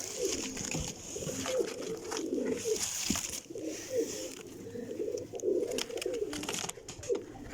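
Several pigeons coo in soft, overlapping low murmurs, a steady rolling cooing that continues throughout at moderate volume, with faint higher chirps in the background.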